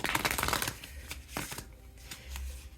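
Tarot cards are shuffled by hand nearby in a quiet room: a dense burst of riffling and flicking, then softer intermittent slides and taps, with no talking.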